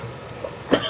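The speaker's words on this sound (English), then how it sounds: "Wow, that makes you cough." A single short cough, close and sharp, after drawing on a strong Virginia-type tobacco in a small bantam pipe bowl, preceded by a faint throat noise.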